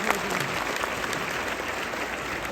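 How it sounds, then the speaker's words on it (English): Loud audience applause for a speaker at a talk, dense continuous clapping filling the space at steady strength from start to finish. "Loud round of applause for Sheikh Omar."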